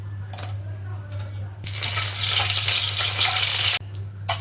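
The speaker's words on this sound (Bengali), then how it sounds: "তেলটা গরম হয়ে গেলে দেবো একটু শুকনো লঙ্কা" Dried red chilies dropped into hot mustard oil in a wok burst into a loud, hissing sizzle that runs for about two seconds and then cuts off, with a low steady hum underneath.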